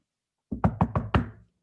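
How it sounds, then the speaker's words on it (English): Five quick knocks rap on a door in an even rhythm, close and solid, with silence before and after. "finally, he knocks on Moshe's door."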